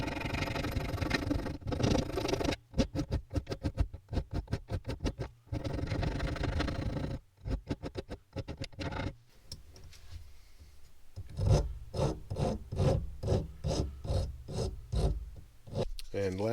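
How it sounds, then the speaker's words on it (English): Hand file rasping back and forth on the end of a leaf spring part for a converted SCX10 II RC crawler, steady close strokes in rhythmic bursts with brief pauses between. "now we take a file to the end,"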